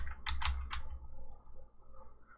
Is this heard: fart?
no